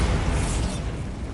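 Bombarda blast spell cast in Hogwarts Legacy, a single loud booming burst with a rumbling low-end tail that fades over about a second, heard alone.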